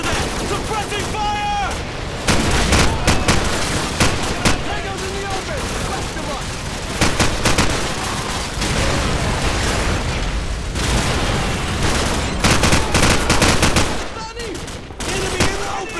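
Sustained automatic gunfire and heavy bursts from a Call of Duty 4: Modern Warfare firefight, loud and dense for the whole stretch with occasional booms, while shouted voices call out over the shooting.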